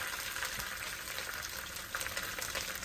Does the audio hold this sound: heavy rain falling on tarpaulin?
no